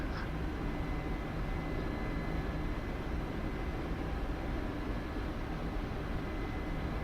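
A helicopter in the DCS flight simulator drones with a steady, dense whir of engine and rotor noise that holds constant and fairly loud throughout, with no voices.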